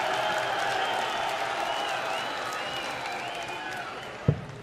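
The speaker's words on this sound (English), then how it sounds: "now the crowd are getting involved" A darts crowd at the Bahrain Darts Masters applauds and cheers steadily at a moderate distance, a broad wash of clapping and voices with one sharp thump near the end.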